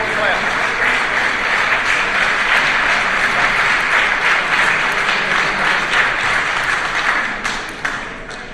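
An audience stands and claps loudly at a city Board of Mayor and Aldermen meeting, a dense, steady wash of applause that fills the room and tapers off near the end.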